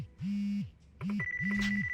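A mobile phone rings in the video game Yakuza Kiwami 2, giving three clear, evenly spaced electronic ring bursts with a thin high tone sustained over the last two, close and alone with no talking.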